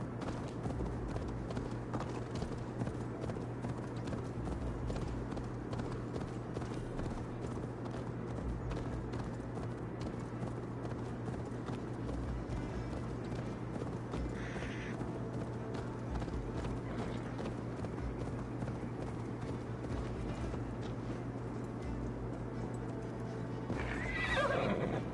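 A horse in the Assassin's Creed Valhalla video game gallops with steady clip-clop hoofbeats and neighs, set against a constant low background drone, moderately loud throughout.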